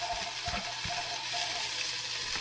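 Garlic chive stems drop into hot oil in a wok for a mushroom stir-fry, giving a faint, steady sizzle with a few soft low knocks and no talking.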